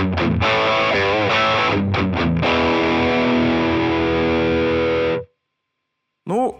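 Electric guitar on humbucker pickups driven hard through a YERASOV 3000 Volt mini overdrive pedal at high gain, loud sustained distorted chords and quick muted chugs ringing out before stopping, then a brief new strum.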